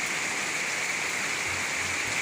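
Heavy rain from Typhoon Carina pours down in the Philippines, a dense, steady hiss of rainfall on surfaces, loud and continuous with no voices heard.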